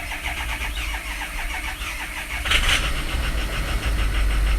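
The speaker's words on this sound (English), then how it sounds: "We're going to go ahead and just try to crank it over." A car engine cranks over on a weak battery with the transmission in neutral: a steady, rhythmic churning that turns louder and rougher about halfway through and keeps going, close up with no talk.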